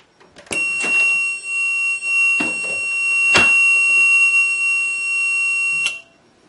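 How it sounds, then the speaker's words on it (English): A latching intruder alarm circuit's buzzer sounding a steady, piercing electronic tone for about five seconds, loud and close, with a few clicks and knocks during it before it cuts off. "as soon as I opened the door, the alarm was activated"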